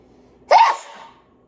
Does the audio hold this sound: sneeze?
yes